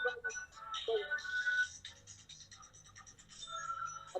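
An incoming call sets off a phone ringtone, a faint melodic tone pattern mixed with scratchy rustling noises, with no clear speech over it.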